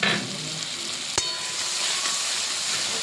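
Fish curry masala for boal fish, mixed with ground sesame, poppy seed and mustard paste, fries in a pan with a steady, loud broadband sizzle and one sharp click partway through, with no talking.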